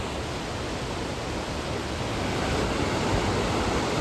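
A steady, rushing roar of a waterfall in Norway, constant and full, swelling slightly toward the end, with no voices.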